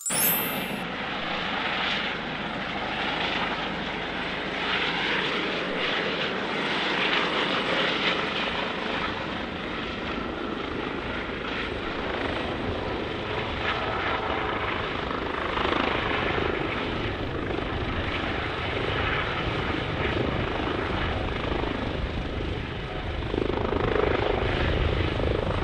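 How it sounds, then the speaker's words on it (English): Continuous whirring roar of a helicopter overhead, steady and fairly loud throughout, with slight swells in intensity and no voices. "Helicopter."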